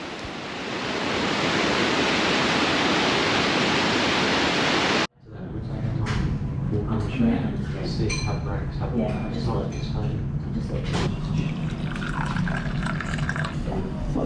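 A river in Kyoto on a hot summer evening: a loud, steady broadband rush of flowing water for several seconds, then a sudden cut to quieter ambience with clinks and voices of people talking nearby.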